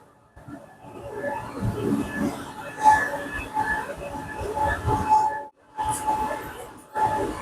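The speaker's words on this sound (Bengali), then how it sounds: "এখান থেকে ট্রেনটা ছাড়বে" A metro train in Taiwan rumbles and hums as it pulls away from the station, with a brief drop to near silence and a few tonal whines over the steady noise.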